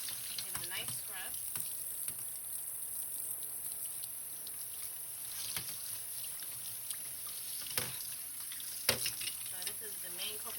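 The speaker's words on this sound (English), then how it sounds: "put a little bit of dish soap and give it a nice scrub" A coconut grater is scrubbed with dish soap and rinsed, giving a faint, steady wash of running water with scattered soft knocks and scrapes, and a voice briefly in the background.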